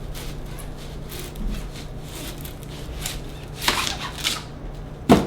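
A knife slicing a quarter-inch round of onion on a board: soft scraping and rubbing, then a couple of firmer chops, the last one sharp and close near the end.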